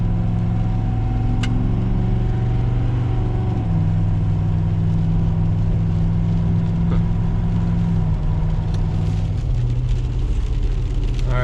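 A Ford Powerstroke diesel truck with a muffler delete tows a load, its engine droning loud and steady with a deep rumble that shifts pitch as it pulls, and no talking.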